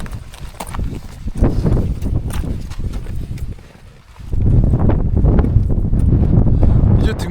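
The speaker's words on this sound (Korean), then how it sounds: "여기 너무 바람이 불어서 추워가지고" Strong, cold wind sweeps across a snowy mountain ridge at Seoraksan, roaring and buffeting in low gusts with thumping footstep-like knocks, easing briefly midway before surging back louder.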